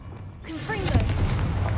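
A spell explosion in Hogwarts Legacy: a sudden booming blast that swells and rumbles with a broad noisy roar, following a brief shouted voice at the start.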